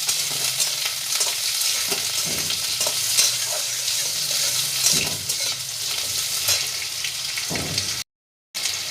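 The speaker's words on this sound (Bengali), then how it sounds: "আলুগুলো একটু নাড়াচাড়া করে দিলাম" Potatoes are stirred as they fry in a pan, with a continuous close sizzle broken by repeated scraping strokes of the spatula and a short silent gap near the end.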